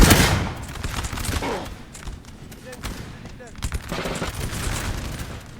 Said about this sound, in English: Is that artillery piece still there? It is. What's it firing at? Everything.